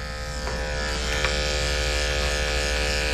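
Electric dog grooming clippers fitted with a blade buzz steadily and close up, a continuous motor hum with no talking and a couple of faint clicks.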